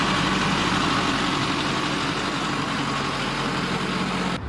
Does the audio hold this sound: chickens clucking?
no